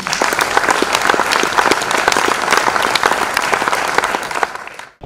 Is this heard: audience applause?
yes